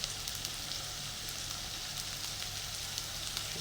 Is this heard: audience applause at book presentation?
no